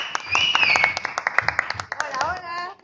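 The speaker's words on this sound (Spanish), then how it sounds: "fuerte el aplauso" Clapping on a Mexican variety TV show as a guest host is welcomed, scattered hand claps running beneath excited, overlapping voices, with music and cheering mixed in.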